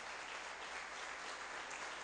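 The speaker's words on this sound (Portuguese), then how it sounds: "Dá um aplauso para o Senhor" A congregation claps for the Lord during a church sermon on fasting and prayer, a steady even wash of applause holding for the full two seconds at low level.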